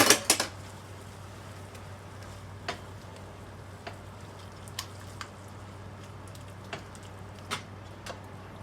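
Spaghetti casserole with meat being stirred in a pot, with sporadic sharp clinks and scrapes of a utensil against the pot over a quiet, steady background hum.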